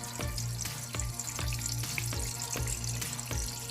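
Eggs frying one at a time in a pan for a homemade silog meal, a steady close sizzle broken by repeated sharp scraping and clanking strokes, with no talking.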